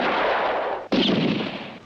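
Heavy gunfire, two loud booming blasts about a second apart, each followed by a rumbling decay and no voices.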